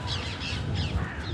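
A crow caws loudly in a park on Hampstead Heath, London, on a cold day, giving a few harsh, repeated calls close by over faint outdoor background noise.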